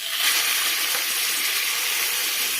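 Boiling water hits a hot pan of frying buns with a loud, steady sizzling hiss that fills the whole moment, close up and without talk.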